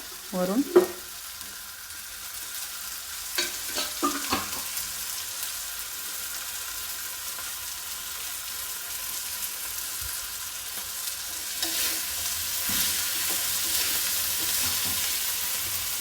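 Cumin seeds sizzle in hot oil for a Kolhapuri thecha, a steady soft frying hiss with a few scraping stir sounds near the start and again later, no voices.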